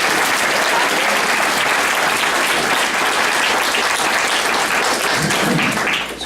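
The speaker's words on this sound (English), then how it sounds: "our hardworking bartender, Irene, we should give her an applause" An audience at a party bar bursts into loud, sustained applause that fills the room and tapers off slightly at the end.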